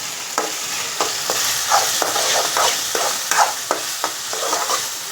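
A spoon stirs soybean chunk curry in a hot pan, scraping in a steady rhythm of strokes over a constant frying sizzle, close and clear, with no talk.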